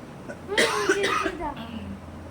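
A few harsh coughs burst out close by, bunched in quick succession, then fade into quiet room noise.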